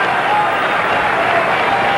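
A crowd at a 1981 NCAA men's 3 meter springboard diving championship cheers and applauds after a final dive, a dense continuous roar of clapping and voices with a commentator faintly audible beneath.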